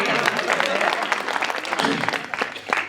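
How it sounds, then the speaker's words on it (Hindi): Audience applause at a Hindi poetry recital, a loud continuous patter of many hands clapping throughout, with talk mixed in. "ताली बजाओ यार, ऐसे क्या है?"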